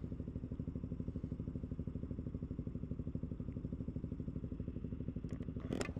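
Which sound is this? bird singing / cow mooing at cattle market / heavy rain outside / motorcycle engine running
motorcycle engine running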